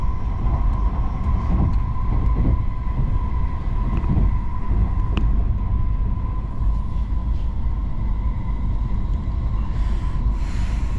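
Steady, loud rumble inside a train running in Japan, a constant low roar with a faint hum and occasional light clicks throughout.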